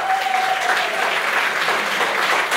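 Steady, loud applause from the crowd at a bachata dance competition's intermediate qualifying round, an even wash of clapping throughout with no pause.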